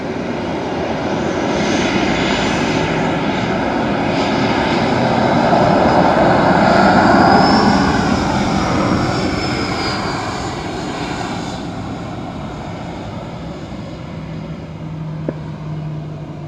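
Airliners roar at Dublin Airport, loud and close, a broad engine rumble that swells to a peak and slowly fades, with a whining tone sweeping across the middle.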